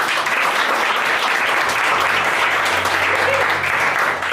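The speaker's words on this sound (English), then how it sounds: "Give these guys a round of applause." At a real estate team meeting, the room claps for agents called up front: steady, loud applause from many hands, continuous throughout, with a faint voice briefly underneath.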